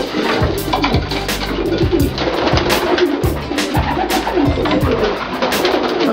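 Racing pigeons bred for overnight long-distance flights coo in a loft, a steady overlapping chorus of low rolling calls repeating close by and fairly loud, with no voices.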